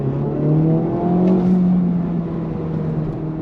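A 2023 Honda Civic Type R FL5 pulls hard on throttle, its engine droning loud and steady from inside the car as the pitch climbs under acceleration.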